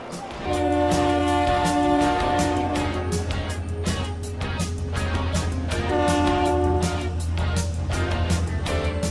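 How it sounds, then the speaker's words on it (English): A train horn blares in long sustained blasts over the rumble and rattle of a passing train. "There's the train."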